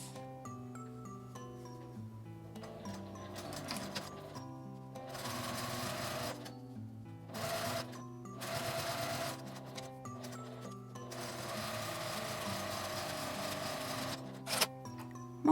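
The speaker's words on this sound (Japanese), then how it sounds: "最初にアイロンで折り目をつけた紐を縫います。" A domestic sewing machine stitches down an iron-creased fabric strap for a small cosmetic tote bag. Several bursts of steady, whirring stitching are separated by short pauses, with soft handling noises and quiet background music underneath.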